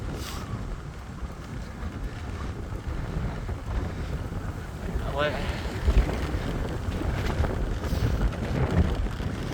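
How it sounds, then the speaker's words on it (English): Strong wind buffets and rumbles continuously across the microphone, with a brief voice cutting through partway. "It's really windy today."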